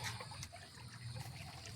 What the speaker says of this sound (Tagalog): Tingnan nyo po yung patubig po namin dito ay tuloy-tuloy po yung tubig.